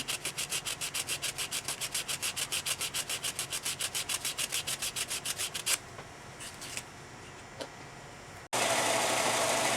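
A crochet hook being sanded with 220 grit paper in fast, even back-and-forth strokes, close and regular for several seconds, then quieter scattered rubbing before a sudden loud burst of noise at the end.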